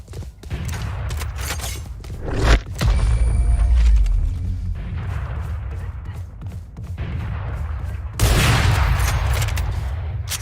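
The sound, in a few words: swarm grenade bursts in video game Valorant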